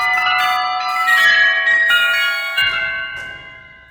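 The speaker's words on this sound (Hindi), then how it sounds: "अचानक शमशान की सारी घंटियां एक साथ बजने लगी।" Many bells at a cremation ground ring together in a bright, sustained metallic clangor, strikes overlapping and shimmering for several seconds before slowly fading.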